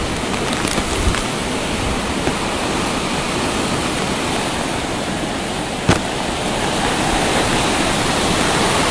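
Typhoon Rolly striking the Bicol region: a loud, unbroken roar of wind and driving rain that holds steady throughout, close and with no gaps, and one sharp gust or impact near the end.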